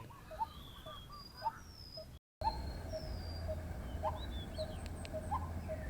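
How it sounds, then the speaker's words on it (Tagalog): Birds calling outdoors along a lakeshore and bay in Batangas, with crows among them: several short, clear calls at a moderate distance over a steady low background hum, with one brief dropout partway through. "Dami namang ibon dito. Yung mga uwak."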